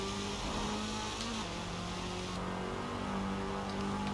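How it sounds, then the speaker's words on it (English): Older Porsche sports car in the Forza Horizon 4 racing game, its engine droning and rising slowly through the revs with a steady, loud, buzzy tone and no voices over it. "Does sound quite nice. It's quite slow revving though."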